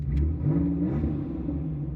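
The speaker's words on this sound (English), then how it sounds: "Sounds like a V6 GM product." A Chevrolet Beretta's GM V6 engine revs up, a deep steady rumbling drone held close by for a couple of seconds, with no talk.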